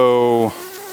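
Live honey bee buzzing in a hive, a loud close drone that cuts off abruptly after half a second, leaving a faint hum.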